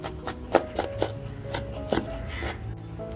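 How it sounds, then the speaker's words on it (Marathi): A knife finely chops tomatoes on a board in a home kitchen, with a quick irregular series of sharp, close taps and gaps between them. "तोपर्यंत आपण टॅमॅटो सुद्धा अगदी बारीक कापून घेऊया"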